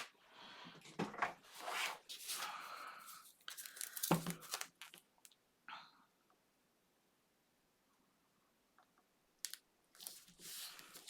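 Score tape being handled, pulled and torn for a holiday organizer craft project, giving close crinkling and ripping bursts in two clusters separated by a quiet stretch.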